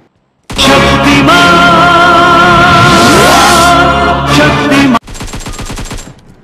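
Loud automatic gunfire in the mobile game PUBG Mobile during a solo match: a sustained rapid burst lasting several seconds, then a sharp cutoff followed by a quieter stuttering volley of shots.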